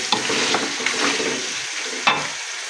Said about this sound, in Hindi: और चिकन का कलर अच्छे से आने तक मैं इसको अच्छा सा फ्राई करूँगी